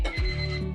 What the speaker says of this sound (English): and there goes that timer